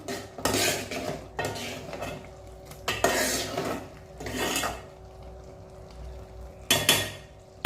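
Okra thokku being stirred in a pan so it does not stick, a series of bursts of metal spoon scraping and clattering against the pan with short pauses between them, close and clear with no voices.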